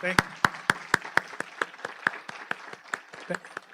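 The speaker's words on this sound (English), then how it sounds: "So let's give him a round of applause." At a Rotary meeting at the Park Hotel, a few close, sharp claps land in a steady rhythm of about three per second, with faint murmuring of other people behind them.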